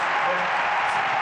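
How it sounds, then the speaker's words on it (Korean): A crowd applauds at a gala concert, with dense, steady clapping that fills the whole moment at an even level. "큰 박수로."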